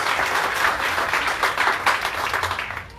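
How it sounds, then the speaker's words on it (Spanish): A Sunday Mass congregation breaks into strong, steady applause, a full, close wash of many hands clapping at once with no speech over it. "Fuerte aplauso al Rey de Reyes y al Señor de Señores."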